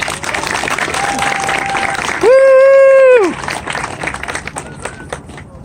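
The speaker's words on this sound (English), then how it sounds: "Can we get one more round of applause, please?" A crowd at a solidarity walk claps and cheers outdoors, the applause broken midway by a loud sustained whistle-like tone, then tapering off.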